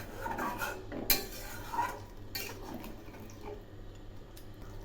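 A spoon stirs okra and potato curry in a pot after water is poured in, giving close metallic scrapes and knocks over a wet, bubbling background.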